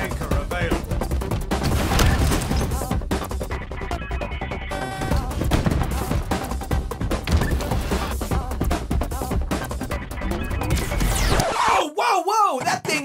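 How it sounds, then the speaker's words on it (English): Rockets fire from the F-41 Spanker launcher in Halo Infinite, loud explosive blasts and booms over a busy soundtrack of repeated firing, ending in a sharp sweeping whoosh. "I feel like blowing stuff up today. Rockets."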